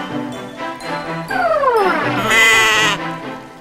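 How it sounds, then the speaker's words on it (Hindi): A goat bleats loudly and close by, a long wavering cry that rises and falls over a few seconds with faint background noise around it. "मैं ये बकरी तुम्हें तोहफे में दे रहा हूं 1 महीने के लिए।"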